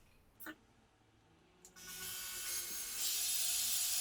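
A hole drilled slowly with a high-speed steel drill bit while making DIY contact juggling poi: a couple of brief knocks, then a steady, close, abrasive grinding hiss that swells and grows louder toward the end.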